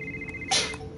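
Telephone ringing in the game Rocket Birds 2, a short electronic ring tone with a steady tone and a brief brighter buzzing burst, close and alone.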